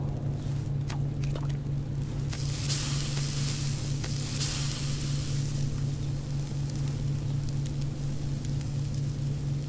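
Meat cooking over a fire in the survival game Subsistence, a steady sizzle and crackle over a constant low hum, with a few faint pops.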